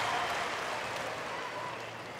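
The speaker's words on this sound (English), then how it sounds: "New York crowd's been a little subdued so far, just suddenly come to life." Cheering and applause from the New York crowd at a 2021 US Open third-round tennis match between Sinner and Monfils, a steady, broad roar that fills the whole moment.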